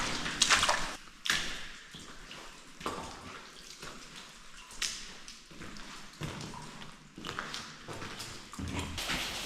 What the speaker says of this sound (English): I can hear it with the water dripping.